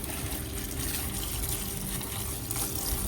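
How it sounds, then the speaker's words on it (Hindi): A strong water jet sprays steadily onto the mesh pad of an air cooler being washed, a loud continuous hissing gush with no pauses. "थोड़ा पानी तेज़ करते हैं, पानी का प्रेशर अच्छा होना चाहिए जाली साफ़ करने के लिए।"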